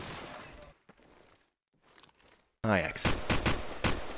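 Rapid gunfire spam in a Call of Duty 4 ProMod match: after a quieter stretch with a commentator talking, a loud burst of sustained automatic fire erupts, close and sharp, continuing to the end.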